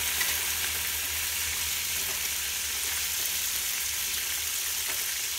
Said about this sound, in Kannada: ಮೆಂತ್ಯ ಸೊಪ್ಪನ್ನ ಹಾಕೋಣ. ಚೆನ್ನಾಗಿ ಹುರ್ಕೊಳ್ಳೋಣ ಮೆಂತ್ಯ ಸೊಪ್ಪು.